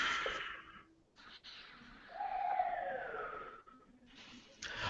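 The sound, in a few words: police siren in the background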